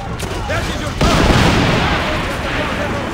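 A cannon salvo in Assassin's Creed Revelations fires during a tower defense battle, a heavy boom bursting in about a second into a sustained rumbling roar of blasts, with a voice talking over the din.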